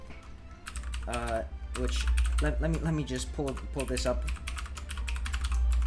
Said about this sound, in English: I bet my keyboard sounds real nice as well